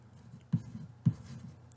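A pen traces steadily across the paper of a Zelda encyclopedia at close range, broken by two soft taps, over a low background hum.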